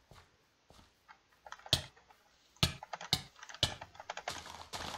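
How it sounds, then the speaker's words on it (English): A computer keyboard mashed rapidly during a minigame session, with irregular clacking keystrokes that start sparse and grow into dense, uneven bursts of close, crisp taps. "I'm mashing my keyboard right now."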